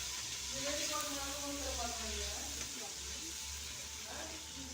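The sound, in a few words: tomatoes sautéing in a pan for mint pickle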